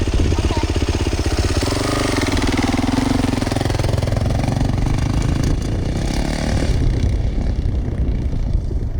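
Yamaha YZ450F dirt bike engine running loud and close, a steady rapid four-stroke pulse that shifts in pitch partway through as the bike moves off.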